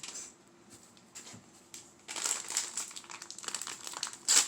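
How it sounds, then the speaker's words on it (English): Dry decorative Spanish moss being handled up close, soft scattered crinkles at first that grow into louder, denser crackling rustles in the second half. "any type of Spanish moss. I've got decorative moss,"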